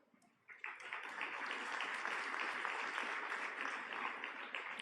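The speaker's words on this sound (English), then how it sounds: "I thought the applause was a little timid for this kind of achievement" Modest, even applause from a convocation ceremony audience at IIM Kozhikode, rising quickly after a brief quiet start and holding steady as a soft, distant wash of clapping.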